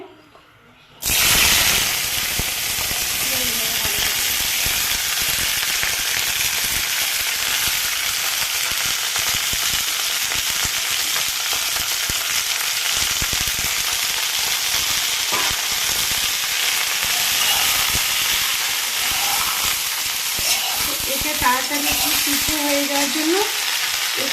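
Vegetables frying in hot oil in a home kitchen, with a loud, steady sizzle that starts abruptly and continues throughout, broken by occasional stirring scrapes, and no talking.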